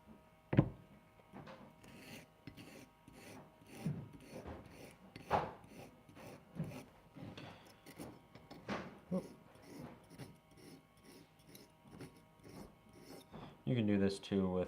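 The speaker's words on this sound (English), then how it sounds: "I'll sharpen my knife really quick." Steel knife blade rubbed back and forth across a store-bought sharpening stone, a series of close, scraping rasps in uneven strokes, with a louder burst of grinding near the end.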